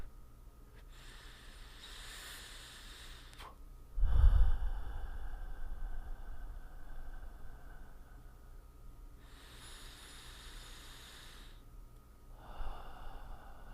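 Slow, deep breaths during a guided meditation: long soft inhales and exhales spaced several seconds apart, one heavier gusty exhale near the mic, quiet and close with no talk.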